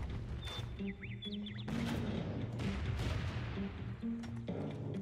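Several heavy cannon blasts boom out at intervals over steady game music and background sound effects in Empire Earth III.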